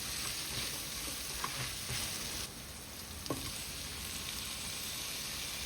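Onion and garlic sauté in a hot pan, giving a steady close sizzle with a few light stirring clicks and no talking.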